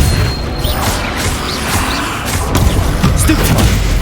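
A spell effect from Hogwarts Legacy sounds as a loud blast of crashing, thudding impacts and mechanical clatter over steady game ambience, with a few sharp whooshes and bangs spread across several seconds.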